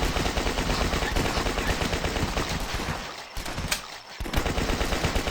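Uzi submachine gun fire in the zombie game The Last Stand, a loud continuous rattle of rapid shots with a brief pause and a short gap near the end before firing resumes, no talk.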